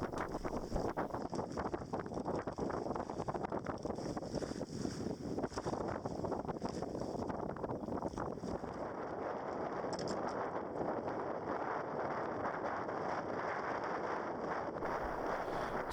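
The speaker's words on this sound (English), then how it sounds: "Especially when it's windy like this. It's blowing about 15 knots" Wind of about 15 knots buffets the microphone aboard a sailboat at a mooring, a steady, loud rushing roar with gusty surges that fills the whole span and leaves no room for talk.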